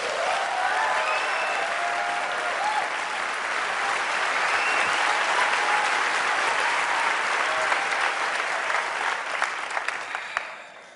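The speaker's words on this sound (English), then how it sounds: "I guess you're going to send that applause to the 350 journalists who worked with you, right?" Sustained audience applause fills the room, a dense wash of clapping from a large crowd that carries on steadily and thins out toward the end.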